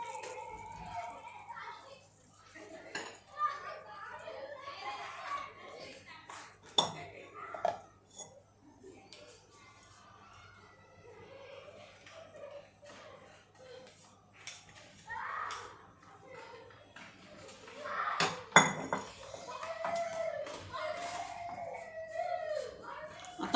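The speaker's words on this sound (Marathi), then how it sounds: "मी आता हे एका बोलमध्ये काढून घेते गॅस बंद करते आणि बोलमध्ये मी हे काढून घेते" Cooked masoor dal with onion being spooned from a pan into a bowl, with faint scattered clinks and scrapes of utensils under intermittent speech and children's voices in the background.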